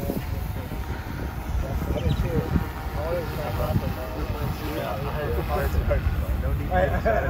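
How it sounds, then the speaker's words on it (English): A large drone flies with a steady, dense rotor whir and rumble that fills the clip at moderate loudness, while people talk nearby. "That's a one big ass drone."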